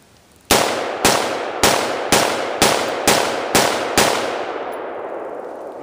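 Seven evenly spaced shots from an AR-15 rifle fed by a Mission First Tactical magazine, each sharp crack ringing out with a short decay, a steady outdoor cadence about half a second apart, no talk.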